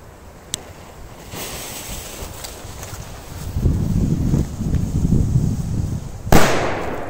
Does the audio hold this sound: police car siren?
no